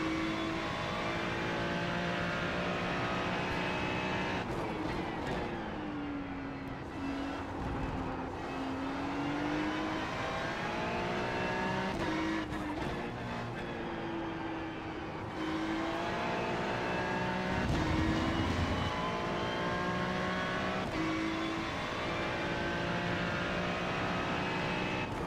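A Ferrari GT3 race car's engine in the iRacing sim at Okayama roars steadily and close up, its pitch climbing through the gears and dipping on shifts and braking, with no voices over it.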